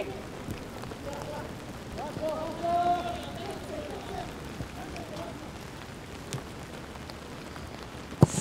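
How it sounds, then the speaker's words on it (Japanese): Steady rain falling during a high school football match, a broad hiss that thickens over time, with a commentator talking over it and a brief louder knock near the end. "雨がちょっと強くなってきています。"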